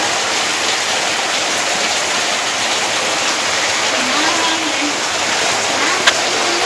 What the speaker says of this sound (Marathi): पाऊस पण जोरात आहे खूप जोरात आवाज पण येते पावसाचा खूप